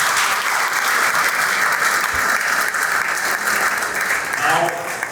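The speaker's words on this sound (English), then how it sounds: "Just clapping for her." An audience at an awards event for students gives a dense, loud burst of applause that stays steady for several seconds, with a voice speaking faintly under it near the end.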